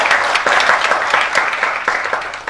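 A worship congregation claps in praise, a loud, dense burst of many hands that keeps up a steady roar of applause for a couple of seconds.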